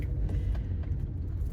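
Interior of a car driving along a road, with a steady low rumble of engine and tyres and faint rattles, continuous and moderately loud with no talk.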